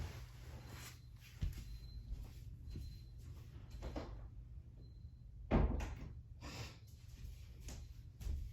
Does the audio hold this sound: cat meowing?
no